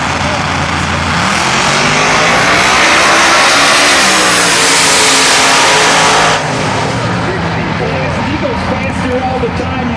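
A twin-turbo 363 cubic inch small block Ford Fox body and a pro-charged 572 cubic inch big block Chevy Camaro launching in a Pro Mod eighth-mile drag race, a deafening sustained roar that rises in pitch, then cuts abruptly as the engines fade down the track.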